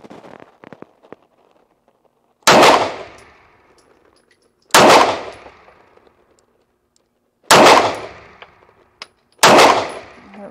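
Four loud gunshots from a Cosaint Arms COS11 firing Blazer ammunition at a target, spaced a couple of seconds apart, each sharp crack followed by a ringing decay outdoors.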